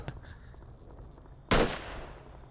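Gunfire from the video game S.T.A.L.K.E.R.: one loud, sharp shot cracks out midway and rings off in a decaying tail, after a stretch of faint, quiet ambience.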